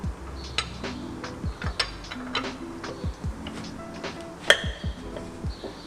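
A lug wrench loosens the lug nuts on a car wheel during a tire change, producing a close series of irregular metallic clicks, ratcheting clanks and short ringing pings, with no talking.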